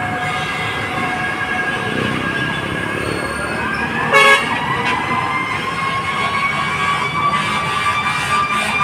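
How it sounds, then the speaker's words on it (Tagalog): Fire trucks pass one after another on a busy street near a fire at a pier, with loud horn toots and siren wails over constant traffic rumble. "Yan at kaliwat kanan ng mga fire truck na dumadaan dito"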